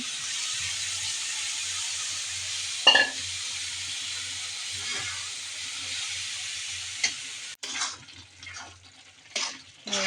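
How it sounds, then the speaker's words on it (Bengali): Leafy greens stirred and fried together with boal fish in a pan make a steady hiss with a few scraping stirs. Near the end come sharper clatters and bumps, and there is no speech. "এরকম নেড়ে চেড়ে নিচ্ছি শাকটা"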